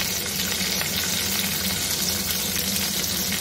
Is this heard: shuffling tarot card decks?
no